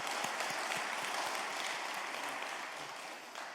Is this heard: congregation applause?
yes